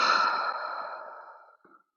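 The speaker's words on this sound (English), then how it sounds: "One more deep breath here, breathing out through the mouth." A single deep breath exhaled slowly through the mouth, close and soft, a long airy sigh that fades out over about two seconds with a faint catch at the end.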